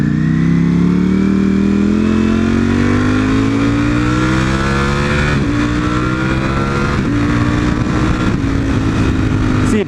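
Motorcycle engine revving loud and close while the rider short-shifts up through the gears, pitch climbing and dropping back at each quick shift, with wind rush throughout.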